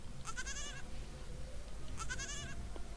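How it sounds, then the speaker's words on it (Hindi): A goat gives two short, quavering bleats about two seconds apart, faint against a steady low background hiss. "तो चलिए बकरी की आवाज़ सुनिए"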